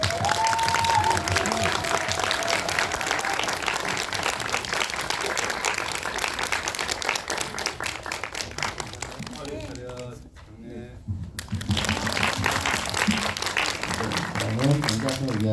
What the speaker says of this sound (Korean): 입장하실 때 여러분들 큰 박수로 환영해 주시면 감사하겠습니다